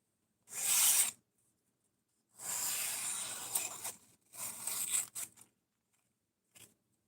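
A knife blade is drawn across a sharpener in three separate hissing, scraping strokes, crisp and close with short silent gaps between them, followed by a brief faint scrape.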